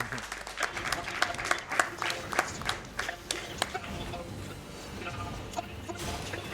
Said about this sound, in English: Let's get a clap out for him.